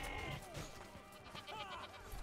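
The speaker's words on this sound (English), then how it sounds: "Come over here, hang out with the goat and this farm animal." A goat bleats several times in the medieval combat game Mordhau, wavering calls set against a busy, noisy background of game sounds, the animal fairly close but not dominant.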